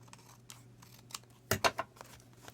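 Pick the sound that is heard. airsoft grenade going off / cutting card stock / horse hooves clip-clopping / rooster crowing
cutting card stock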